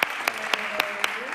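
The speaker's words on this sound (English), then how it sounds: "I'll give her an applause." An audience at a climate action in higher education event in a hall gives brief applause, heard here as a few evenly spaced, crisp claps over a soft wash of sound.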